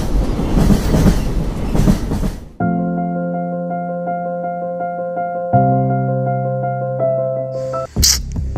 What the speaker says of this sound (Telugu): అయ్యో, ట్రైన్ వస్తుంది.